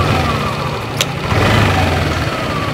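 A Yamaha Lexi motor scooter with a battery-draining fault idles steadily up close, a loud, even engine drone with a brief sharp tick near the middle.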